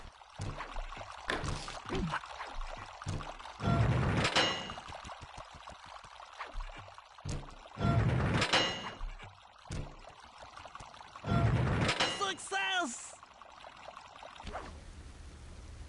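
Water surging through valves in the Sly 2 video game, coming in several loud gushing bursts separated by quieter stretches, with a brief spoken line near the end.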